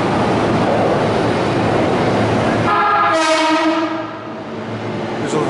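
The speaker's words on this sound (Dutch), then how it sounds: "Dit is de volgende trein." A Tokyo metro train arriving at a station, with a steady loud rumble of wheels and track followed by a sustained multi-tone horn or signal sounding nearby, then the noise easing slightly.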